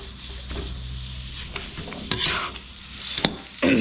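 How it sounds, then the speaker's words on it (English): Pork larb mixture hitting hot oil in a wok, a close sizzle with sharp spatula scrapes and clanks against the metal as it is stirred, the hiss rising abruptly at the end. "Now we're gonna put the lard that we mixed already into the wok in the oil."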